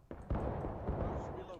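A musket volley in the War of Rights video game lands as one heavy, rumbling blast that rolls on for over a second, muffled and fairly faint, with a faint voice underneath.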